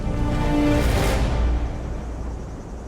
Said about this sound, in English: I heard an engine going.